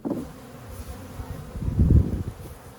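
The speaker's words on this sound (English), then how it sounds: "Going to shake these bees from the lid on the front." Honey bees shaken off a beehive lid during a split of a nucleus colony give a close, dense buzzing hum that swells toward the end, with no talk.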